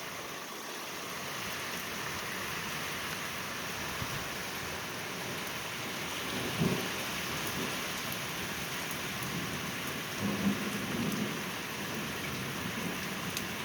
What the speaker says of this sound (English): Yep, a little bit of thunder out there.